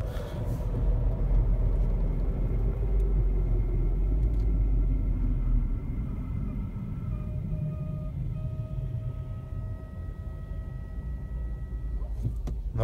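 A 2016 Suzuki Vitara's engine gives a steady, loud low rumble that fills the clip, easing slightly after the midpoint, with faint tonal whines above it and no talk.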